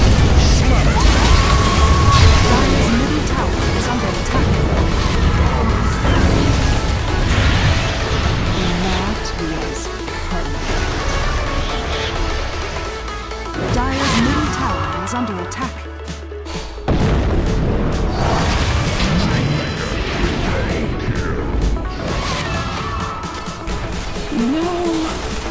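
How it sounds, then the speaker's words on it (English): Dota 2 match audio in which a Dire middle tower comes under attack, with dense, loud battle noise: booming impacts, crashes and rumbling effects running continuously throughout, and a short lull about two-thirds of the way through. "Dire's middle tower is under attack."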